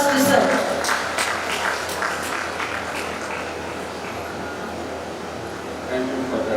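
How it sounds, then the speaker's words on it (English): A conference audience applauding a speaker, a dense continuous wash of clapping that stays fairly even throughout, with a voice faintly beneath it. "Let us have a round of applause to sir."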